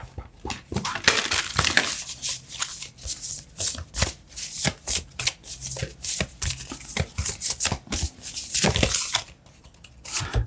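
Oracle cards are shuffled close up in quick, uneven riffles and slaps that last about ten seconds, with short pauses between bursts and a soft voice faintly in the background.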